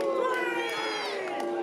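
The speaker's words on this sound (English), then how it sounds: "Crowd voicing their displeasure with that one." A wrestling event crowd voices its displeasure, a sustained mass of booing and shouting voices from the arena that holds steady and loud throughout the brief moment.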